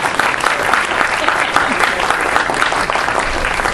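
An audience bursts into applause during a lecture hall talk, a thick, even wash of clapping that stays loud and continuous without a break.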